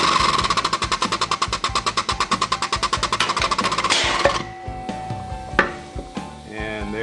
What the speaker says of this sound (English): we have our pneumatic hydraulic pump set up here